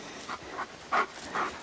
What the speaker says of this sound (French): Oui, ça, c'est un chien heureux,